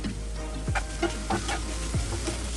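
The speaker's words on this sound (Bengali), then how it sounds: "বাঁধাকপিটা ভাজা হয়ে এসেছে আমি এখন চুলা থেকে এটা নামিয়ে নিচ্ছি" Cabbage frying in mustard oil in a pan makes a low, steady sizzle with a few short clicks and scrapes of stirring, close and fairly quiet.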